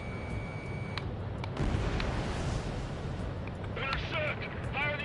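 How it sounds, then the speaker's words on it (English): Anti-aircraft guns fire in the Ace Combat 7 combat flight game, throwing out a burst of booming, crackling shots and rumbling blasts amid battle noise, with radio voices partly audible underneath. "Intercept! Fire the AA!"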